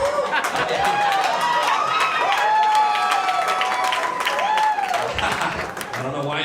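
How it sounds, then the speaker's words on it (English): An audience at a stand-up comedy show cheers and applauds, a dense wash of clapping with whoops and scattered shouts that stays loud and steady for several seconds before thinning slightly. "I don't know why y'all cheer for that"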